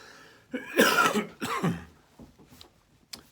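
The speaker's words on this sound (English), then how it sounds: "That's not corona. That's just a cough." A pair of harsh, close allergy coughs in quick succession, followed by a brief quiet with faint rustling and a small click near the end.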